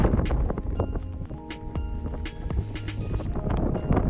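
Strong 25-mile-an-hour wind roars and buffets the microphone outdoors on a fishing boat, a continuous loud rumble with gusty swells and no clear talk.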